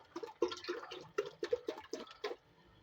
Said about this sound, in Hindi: हाफ बोतल पानी की डाल के इसको